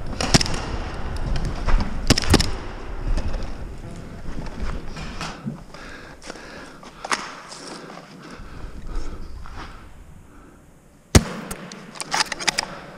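Airsoft pistol fired during an outdoor airsoft game, giving a few sharp, close snaps spread through the clip, with a distinct crack near the end over rustling background noise.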